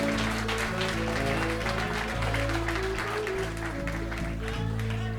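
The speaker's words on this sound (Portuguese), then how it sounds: "Aplauda ao Senhor nessa noite" A church congregation at an evening service in Uruguay claps steadily for the Lord, the applause spreading through the room under sustained keyboard chords and music for the whole stretch.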